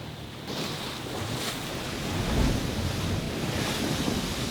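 Strong ocean waves wash along a sun-exposed coast in a steady, broad roar that swells slightly midway, with wind buffeting the microphone throughout.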